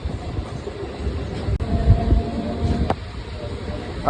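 A MEMU passenger train pulls into Bedampudi station platform on the Dornakal to Bhadrachalam Road line, a moderate rumble with soft wheel clatter and a few sharp knocks, heard from nearby amid crowd noise.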